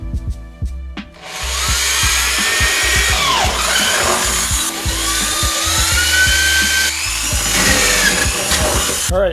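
A power drill bores holes through a trailer to mount a diesel heater, a loud continuous whine with shifting pitch that runs nearly the whole time after a short quiet start.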